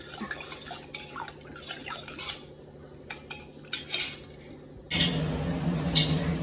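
Eggs are beaten with a little salt in a bowl for an omelette, a run of quick clinking taps of utensil against the bowl, close and moderately quiet, followed by a louder burst of sizzling or rushing noise.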